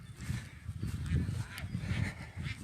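Ducks at a duck farm in Isan, Thailand, quack in a continuous, overlapping chorus, fairly faint and steady throughout, with no talk over them.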